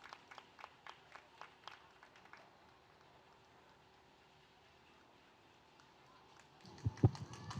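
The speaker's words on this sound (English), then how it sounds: "give them a nice round of applause" Scattered hand claps from a small audience at a junior livestock pygmy goat show, faint and sparse for the first couple of seconds before fading into quiet room noise, with a louder thump near the end.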